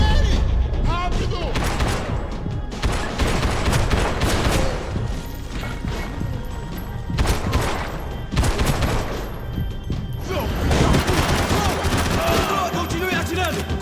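Rapid video game gunfire bursts repeatedly in close, loud volleys of automatic shots and booms, broken by brief pauses over about fourteen seconds, with voices shouting underneath.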